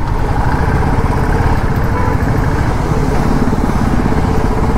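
Motorcycles, including a Royal Enfield Bullet 350 and a Himalayan, ride through dense highway traffic near Pune, with a steady loud engine drone and road rumble throughout.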